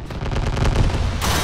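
Rapid volleys of cannon fire boom from a car armed with many cannons in the Trailmakers video game, a dense string of close, loud blasts firing in quick succession.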